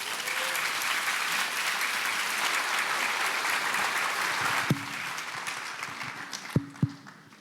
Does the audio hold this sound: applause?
yes